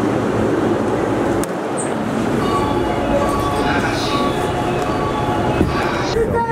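A train bound for Niigata, Japan, rumbles steadily along the tracks at night with a dense, continuous roar, faint clinks and squeals, and a voice speaking over the noise.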